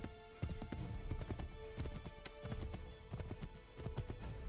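Horse galloping in Assassin's Creed 3, rapid irregular clip-clop hoofbeats close by and moderately loud over a steady game background, no talk.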